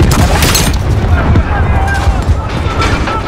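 An explosion in the Call of Duty Modern Warfare video game: a loud, heavy rumbling blast that rolls on for several seconds, dense low booms filling the whole stretch.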